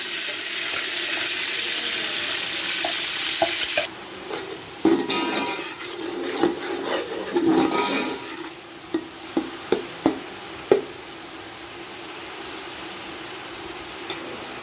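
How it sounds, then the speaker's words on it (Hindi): Steady loud sizzling of chopped onions frying in hot oil, with occasional clinks and scraping as they are stirred. "ऑयल हमारा गर्म हो गया है तो इसमें हम डाल देंगे प्याज"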